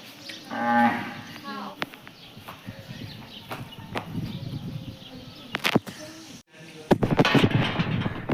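Cattle at a large cow shelter in the Little Rann of Kutch, with an early drawn-out moo standing out, then shuffling hooves and footsteps, knocks and scattered animal noise through the rest, fairly close.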